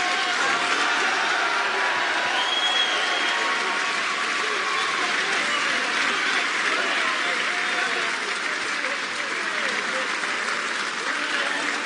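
Sustained applause from a large snooker audience, steady and dense throughout, with a commentator's voice faintly underneath.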